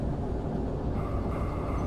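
Shunter locomotive in Derail Valley chugging under load, a steady low rumbling engine drone with faint rhythmic pulsing, continuous and fairly close.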